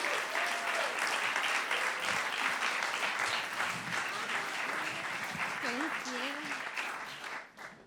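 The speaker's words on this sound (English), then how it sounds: "give it up for our next storyteller with a huge round of applause" Sustained applause from a live storytelling-show audience for the next storyteller, dense and loud throughout with cheers and whoops rising over the clapping, tapering off near the end.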